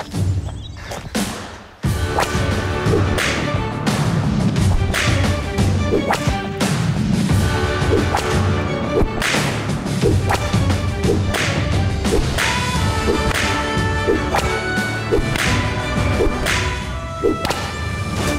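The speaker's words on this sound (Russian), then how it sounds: "В общем, мастерство управления кнутом." Sharp, loud whip cracks from traditional whip-handling in the Dolomites of the Italian Alps, a rapid rhythmic series of snaps repeating steadily after a brief quieter opening.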